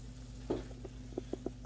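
Bacon frying in a pan for a Western-style omelet, a low steady sizzle with a few soft pops and spits breaking through at irregular intervals, close by and fairly quiet.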